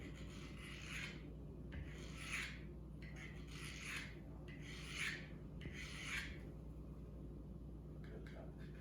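A carbide-tip sharpener is drawn along a 1095 high carbon steel knife in five or six close, gritty rasping strokes at an even pace over a low background rumble.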